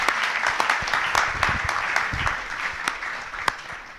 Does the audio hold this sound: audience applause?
yes